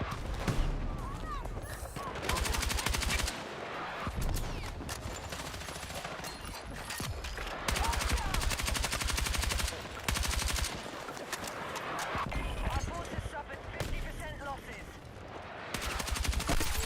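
Automatic gunfire rattles in Battlefield 6 in repeated rapid bursts separated by short pauses, loud and close, with a player's voice talking over parts of it.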